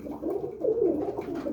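Birmingham roller pigeons in a loft cooing softly, a low rolling murmur of several birds close by that swells in the middle, with no talk.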